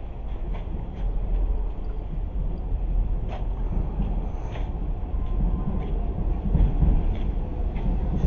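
A train pulling into Chibune station in Japan gives a steady low rumble that holds throughout, with faint higher clatter and brief squeals from the wheels on the rails.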